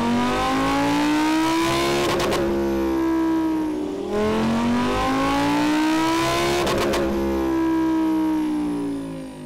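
A Lamborghini Huracán STO V10 revs hard on a dyno, climbing twice through the rev range in long rising wails, each ending in a sharp crackling cut before the pitch drops, loud and close with no talk.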